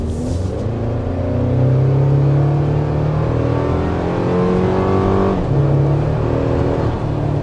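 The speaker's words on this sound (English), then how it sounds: "that's what you're really going to feel when you get on the throttle with this turbocharged Tacoma." A 2024 Toyota Tacoma TRD Sport's turbocharged engine accelerating hard, a loud continuous close-up drone rising in pitch, with a brief shift dip midway before climbing again, no talking.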